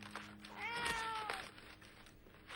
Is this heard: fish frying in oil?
no